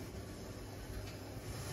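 Gauge 0 model tram of a Düsseldorf design running on a model railway track, a steady close rumbling and whirring with faint rail clatter, continuous and fairly quiet throughout.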